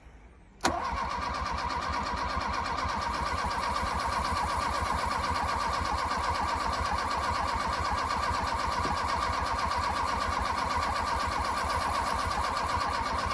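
A Tofaş Şahin car's engine cranks in -10 degree cold without catching. A loud, steady, rhythmic starter churn begins abruptly after a brief quiet moment and runs on unbroken for about thirteen seconds.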